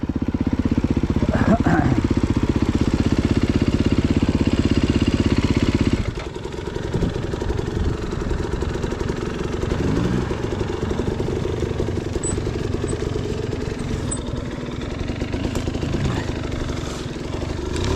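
Motorcycle engine running steadily on a Pine Valley ride, loud and droning for the first six seconds, then dropping to a lower, rougher idle-like rumble with clatter for the rest; no talking.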